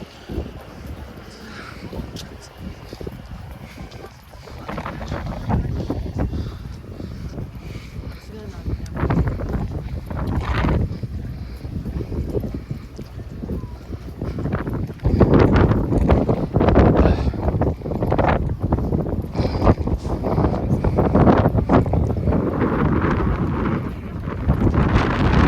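Strong, cold wind buffets the microphone in loud, roaring gusts that build and intensify, with a voice speaking faintly underneath, at Eobi Ice Valley, South Korea.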